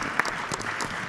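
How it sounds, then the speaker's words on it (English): A short burst of audience applause in a chapel during a community town hall, a brief wash of many hands clapping at moderate loudness. "Let's give Reverend Anthony a round of applause for the vision"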